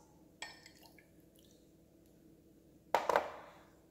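Soy sauce is poured into a small dish for a Korean dipping sauce served with jeon pancakes: faint, brief drips and a short, quiet liquid splash near the end, with no talking.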